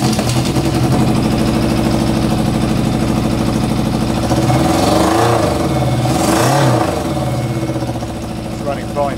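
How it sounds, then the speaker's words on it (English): Yamaha Fazer 600 motorcycle with a gap around an exhaust joint, running loud and steady with rough revs and sharp pops of backfire, a voice talking over it. "It's backfiring like hell because there's so much gap around the joint."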